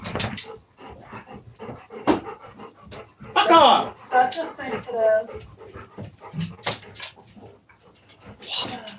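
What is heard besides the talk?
dog barking and panting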